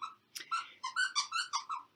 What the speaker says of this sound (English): There's puppy Juno.